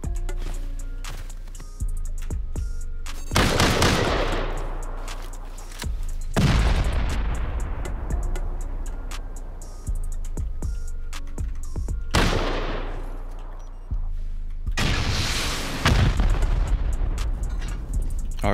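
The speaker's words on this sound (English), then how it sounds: "Might be able to toss a C4 on this thing though" Repeated heavy C4 detonations in an underwater skyscraper base raid in a video game, four loud booming blasts spaced a few seconds apart, each with a long rumbling decay.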